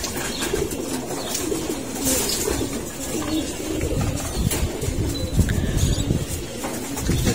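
A flock of pigeons coos while feeding, low throaty calls overlapping continuously and close by, with soft rustling and pecking beneath.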